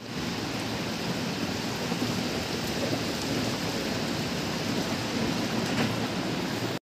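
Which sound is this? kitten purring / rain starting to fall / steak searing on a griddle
rain starting to fall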